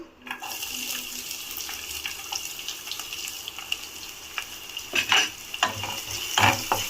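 Onions fry in hot oil with mustard and cumin seeds, giving a steady sizzle with scattered crackles and scraping stirs that grow louder toward the end.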